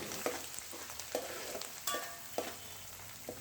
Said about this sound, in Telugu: సన్నగా తరిగిన ఉల్లిపాయ ముక్కలు సన్నగా తరిగిన పచ్చిమిరపకాయ ముక్కలు కొంచెం కరివేపాకు వేసి మిక్స్ చేసుకోవాలి